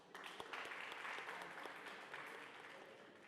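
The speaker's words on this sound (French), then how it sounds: "On applaudit pour elle, s'il vous plaît." Audience applause for a student at a high-school competition event, a steady burst of many hands clapping at moderate distance, lasting throughout with a few sharper claps standing out.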